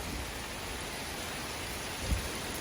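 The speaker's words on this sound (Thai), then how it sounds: "ฝนตกฝนสาดแต่ว่าแดดออก เด้แต่ว่าฝนตก ฝนตกแรงด้วย" Heavy rain pours down steadily in a dense, even hiss, with a single soft thump near the end and no voices.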